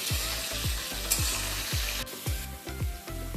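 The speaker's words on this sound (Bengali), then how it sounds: "বেগুনগুলোকে এরকম ছোট ছোট স্কোয়ার করে কেটে নিয়েছি, এটা দিয়ে দিলাম তেলের মধ্যে। এবার বেগুনটাকে একটু ভেজে নিতে হবে।" Small square-cut eggplant pieces frying in oil on a gas stove, with a steady loud sizzle and rhythmic scraping strokes as they are stirred, close up and without voices.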